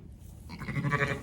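A young lamb on a farm gives a short, wavering bleat, close by and moderately loud, rising out of quiet background noise.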